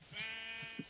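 A sheep in the Minecraft video game bleats twice, short nasal digital baa sounds, clear and close with no talking.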